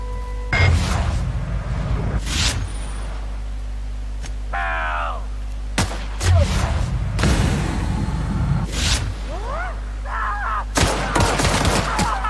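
Several sharp, loud gunshot bursts from The Outer Worlds, a sci-fi video game, spaced irregularly across the stretch, with game sounds and a voice in between.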